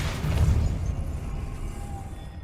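A Depulso force spell cast in Hogwarts Legacy lands as a deep, booming burst up front and fades into a low rumble over a couple of seconds, alone with no talk.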